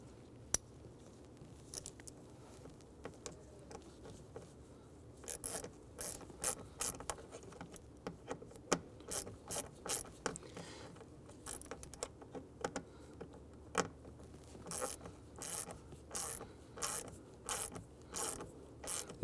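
Screws being driven into an HVAC blend door actuator on a 2011-2019 Ford Explorer, with a run of sharp ratcheting clicks and short mechanical bursts that grow denser toward the end, heard close over a low steady hum.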